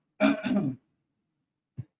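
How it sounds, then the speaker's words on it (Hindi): A man with a sore throat clears his throat in two loud, close rasping pushes, followed after a pause by a single short, soft cough. "तुम्हें दिख भी रहा होगा कि खांस भी रहा हूँ"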